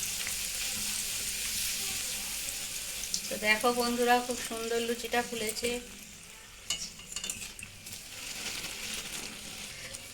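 Dal puri fries in hot oil with a continuous loud sizzle and bubbling throughout. A person talks briefly over it in the middle.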